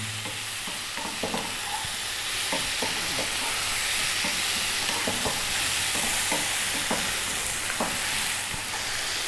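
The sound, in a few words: stirring eggplant potato curry in pan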